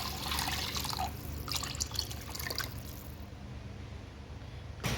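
Water and tomato paste going into a cooking pot, with light dripping and splashing sounds in short bursts, fairly quiet, followed by a brief clatter near the end.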